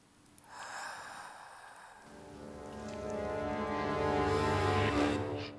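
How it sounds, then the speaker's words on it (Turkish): Slow, heavy breaths over a phone line rise and fall with a hoarse, droning quality, growing louder toward the end, close and muffled. "Telefondaki nefes alıp verme sesini duyunca çok korkmuştu."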